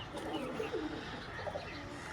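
Red pigeons in a pigeon shop coo softly and repeatedly, low murmuring calls over a steady background hum with faint voices nearby.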